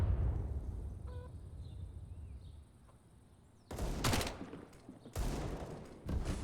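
Gunfire in CS:GO on the Inferno map during a professional match, quiet ambience and a faint blip giving way to two loud, close bursts of rapid automatic fire and a third burst starting at the end.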